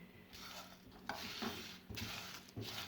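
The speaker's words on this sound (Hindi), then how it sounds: "मसाले हमारे रोस्ट हो रहे हैं।" Dry spices roasting in a pan for chaat masala, stirred in a slow rhythm of soft scraping sweeps with a faint crackle, quiet and close.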